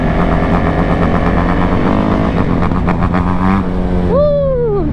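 A two-stroke dirt bike engine revs loudly up close, with a buzzy, raspy drone that climbs and holds before a sharp final rev and drop-off.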